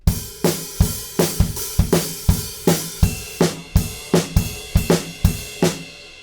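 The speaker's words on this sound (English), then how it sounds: "the beat stays the same, but we add some crash cymbals" A drum kit plays a steady rock beat for a song, with crash cymbals added, regular loud hits repeating evenly about twice per second.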